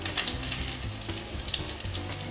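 Meat cutlets sear in a hot frying pan with a steady, close sizzle and crackling fat, dense and continuous throughout, with no voices.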